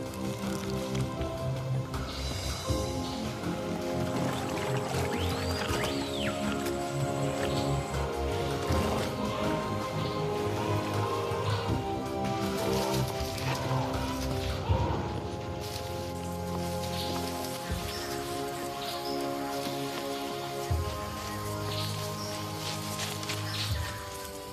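Rain falls steadily across the leaves of a Vietnamese rainforest, a soft continuous patter of drops, partly masked by a sustained musical score playing beneath.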